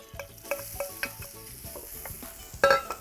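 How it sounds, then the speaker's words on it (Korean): Eggplant stir-fried in an oiled pan over medium heat for eggplant rice, with a soft steady sizzle under repeated clinks and scrapes of a utensil stirring, and one louder clatter near the end. "그리고 가지 먼저 볶아주세요."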